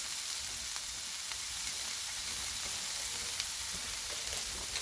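Pork sizzling on a Blackstone griddle, a steady, close crackling fry with scattered small pops throughout, no talking.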